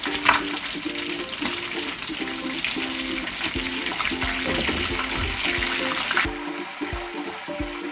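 Chicken frying in a pot of oil until golden brown, a steady close sizzle and crackle with a soft rhythmic bubbling pulse underneath, continuous throughout with no talking.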